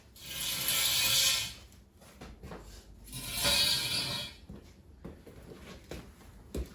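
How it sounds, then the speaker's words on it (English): A car jack under a VW MK1 ratchets in two close, rapid clicking bursts, followed by a few sparse mechanical clicks and knocks. "Jack it up, slide out the jack stands."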